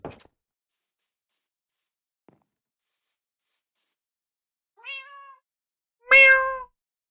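A human voice imitates a cat's meow, with two short, rising-and-falling mews separated by a pause, the second louder and more drawn out, against near silence.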